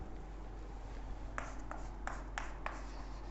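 Pen or chalk writing on a board in a calculus lecture, several short scratchy strokes over a constant low hum, fairly faint, with no voice during the writing.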